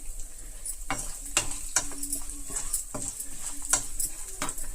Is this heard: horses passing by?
no